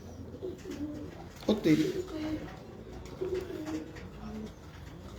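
Pigeons coo in soft, low, rolling phrases close by, several calls spread across the moment, while a man briefly exclaims over them.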